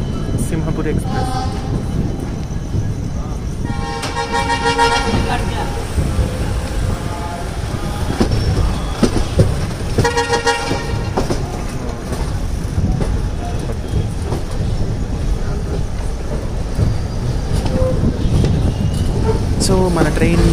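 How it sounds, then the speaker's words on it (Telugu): Gudur–Secunderabad Simhapuri Express train, a steady close rumble with faint clickety-clack and short squeals, a voice talking over it throughout. "గూడూరు సికింద్రాబాద్ సింహపురి ఎక్స్ప్రెస్"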